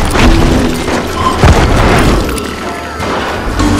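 Gunfire in the Western shooter Call of Juarez: Gunslinger comes as loud, close booming shots and sharp bursts, several in quick succession over a dense, noisy backdrop.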